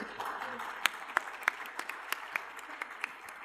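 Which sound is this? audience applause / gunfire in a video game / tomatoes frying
audience applause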